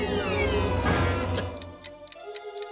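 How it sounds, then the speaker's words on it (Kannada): A cartoon time bomb ticks in quick, even beats after a brief wavering tone, the ticks sharp, close and regular. "ಟಿಕ್ ಟಿಕ್ ಅಂತಿದೆ ಅಂದ್ರೆ ಇದ್ರಲ್ಲಿ ಟೈಮ್ ಬಾಂಬ್ ಇದೆ."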